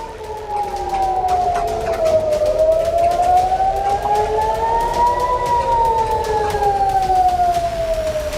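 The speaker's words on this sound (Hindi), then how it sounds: "जहां आसमान में मिसाइल दिखते ही सायरन बजने लगा" An air raid siren wails in Jerusalem during a missile attack, loud and close, its tone slowly rising and falling in long sweeps throughout, alone with no voices.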